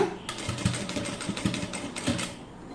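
A sewing machine stitching in a steady rapid whirring run, close and fairly loud, with a faint voice in the background.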